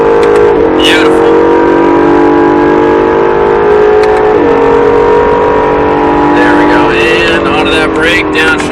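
Acura NSX engine under heavy braking and downshifts on a racetrack while chasing a Ferrari, a loud, steady drone with sharp rev blips and pitch drops as each gear goes down, kept under continuous talk.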